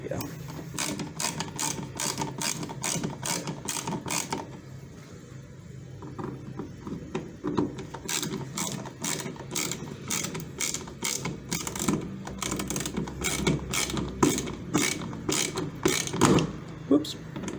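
A ratcheting screwdriver turns screws on a wall electrical outlet, giving fast, rhythmic mechanical clicking in repeated bursts with a brief pause partway through, close and prominent, while someone talks intermittently.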